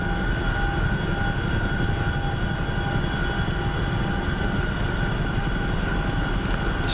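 A Chinook helicopter in flight gives a continuous, loud, close engine and rotor drone that holds steady throughout.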